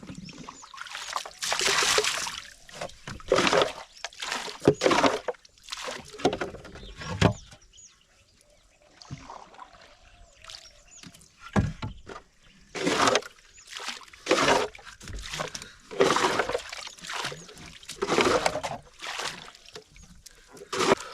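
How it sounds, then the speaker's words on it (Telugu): Water is poured to wash freshly caught fish aboard a small boat on the Krishna River, making repeated loud splashing bursts separated by short quiet gaps. "నీళ్ళు పోసుకొని శుభ్రంగా కడుగుదాం"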